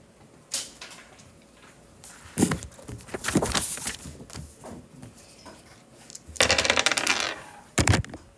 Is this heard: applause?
no